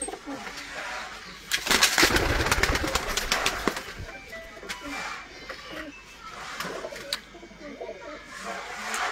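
Prized racing pigeons coo in low bursts at moderate distance, mixed with a louder rustling, flapping stretch early on and light background noise.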